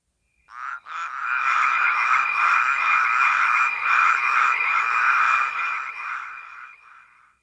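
A dense chorus of frogs croaks for several seconds, sounding as a steady, buzzing, rhythmic trilling that swells in quickly, holds loud and close, then fades, with no talk.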